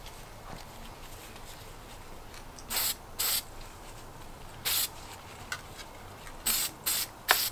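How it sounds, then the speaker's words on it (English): Short bursts of DuraCoat degreaser sprayed onto rifle parts, about seven quick hissing spritzes in irregular pairs and singles over a quiet room background. "we're going to take some of the DuraCoat degreaser here, and we're going to spray these down"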